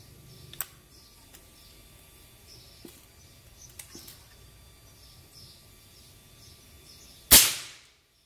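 A PCP hunting air rifle fires a 1 g pellet at maximum power: one sharp, loud crack with a quick decaying tail near the end, after faint scattered clicks and handling noises.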